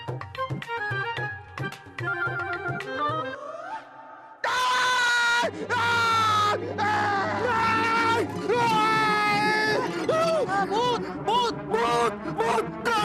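A woman screams in fright in a comedy scene, with a sharp, high, wavering cry after a burst of music. Other voices shout and wail loudly around it.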